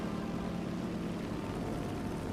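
Propeller engine drone of a B-17 bomber in a video game, a steady, even low rumble held constant with no speech.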